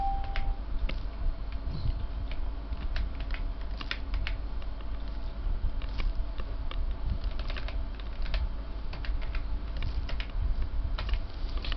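Steady typing on a computer keyboard, quick irregular clicks and key taps going on throughout at moderate level over a faint hum, no speech.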